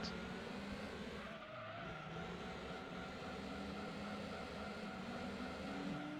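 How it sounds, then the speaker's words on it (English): A race car drifts in the Gran Turismo racing game, its tyres skidding and squealing in a sustained smear over the continuous roar of the engine, steady and loud for the whole stretch. "Oh, look at that. Textbook drift."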